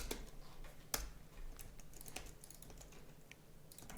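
Someone types on a computer keyboard. Sparse, uneven key clicks close by, a couple of sharper taps among them, over quiet room tone.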